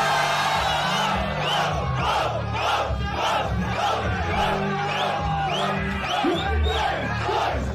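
Crowd at a Brazilian freestyle rap battle shouting and yelling in a steady, dense roar, with rhythmic chant-like bursts rising over continuous loud noise throughout.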